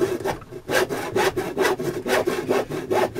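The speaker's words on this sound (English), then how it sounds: "I'm watching the saw as I'm going through and watching it cutting on the line." Hand saw cutting through wood along a marked line, about eight regular rasping back-and-forth strokes, close and clear with no talk.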